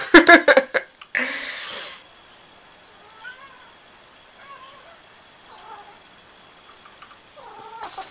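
Indoor cat playing fetch gives a few loud bursts of noise at the start, then short, fairly faint meows and chirps scattered through a quiet room, with another meow near the end.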